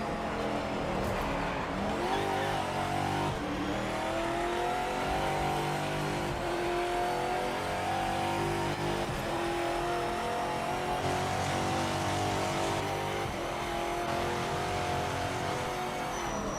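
Race car engine in the sim racing game Project Motor Racing, lapping Sebring against AI cars: a steady, loud engine drone with shifting revs and gear changes throughout, occasional tire squeal, no talking.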